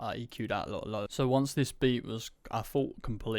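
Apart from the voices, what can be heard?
None of the usual background noises is heard.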